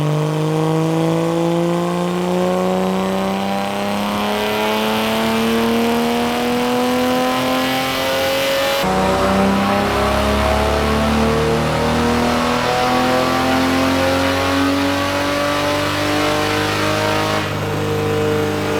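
A BMW E30 engine on a dyno during break-in, revving up in long sustained rising pulls, loud and close, with a clear reset between two climbs and no talk.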